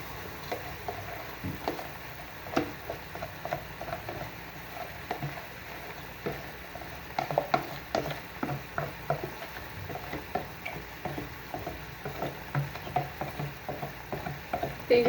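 Soaked lentils sautéed and stirred in a pan, a low steady sizzle with irregular scraping and clinking taps of the spoon against the pan, fairly close and quiet.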